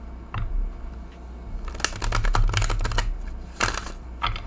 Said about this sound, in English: So let's see how this shuffles.